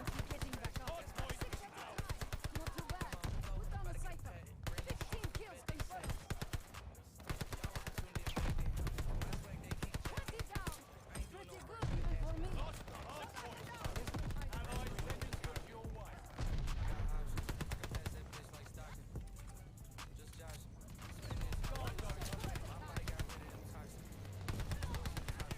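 Owen Gun fire in Call of Duty: Vanguard hardcore mode, dense rapid bursts and scattered shots crackling continuously at close range, with voices talking over much of it.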